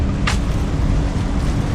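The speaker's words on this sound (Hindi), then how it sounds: "देखें गाड़ी पास से गुजरी, बड़ी तेज़ आवाज़ है" A car passing close by on a hot street in Muscat, Oman, giving a loud, steady roar of traffic with a brief hiss early on.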